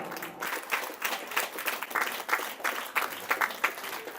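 Audience applause at a local community news event, a steady wash of many hands clapping with irregular bursts, moderately loud and continuous with no talking over it.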